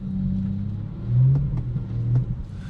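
A car engine hums low and steady while driving, swelling briefly as it pulls harder, with a few faint clicks and knocks inside the cabin and no talking.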